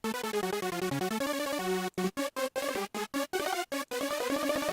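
Hardstyle rave lead synth patch in Serum without hyper detune, a bright buzzy sawtooth melody played in legato phrases and then short choppy staccato stabs, loud and isolated.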